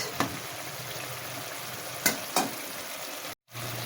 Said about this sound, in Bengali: আমি এখানে কাটলে মাছ রান্না করছি